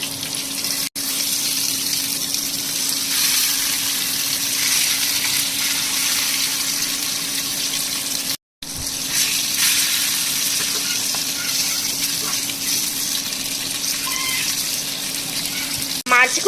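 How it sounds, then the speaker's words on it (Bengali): Fish fry in oil in a pan over medium heat after being turned to cook the other side, giving a steady, close, continuous sizzle with a brief break midway. "এখন অপর পাশটাও আমি ভেজে নিব।"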